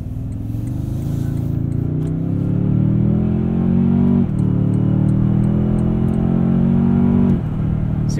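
A 2022 Toyota Tundra Limited 4WD CrewMax accelerates, its engine droning loudly and rising in pitch through several seamless gear shifts, each marked by a brief drop before climbing again, heard from inside the cab.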